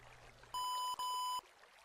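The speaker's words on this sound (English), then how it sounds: "Cool, we're getting some beep codes." Computer beep codes from an OpenComputers machine in modded Minecraft 1.10.2: two clear, equal electronic tones with a brief gap between them, loud and alone over a faint background.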